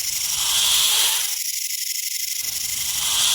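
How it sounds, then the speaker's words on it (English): A snake hissing: a steady, fairly loud breathy hiss with a brief drop in the lower band partway through, heard alone with no talking. "It's a snake and it's an animal."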